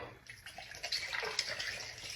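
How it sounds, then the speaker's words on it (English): Coconut water pours in a steady splashing stream into a container for a piña colada mocktail, close and fairly soft, with no talking. "We're going to add some of our coconut water."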